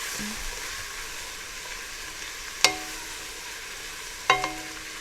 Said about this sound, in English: 2 teaspoons of chili powder. I'm going to get that blooming with the oil and the heat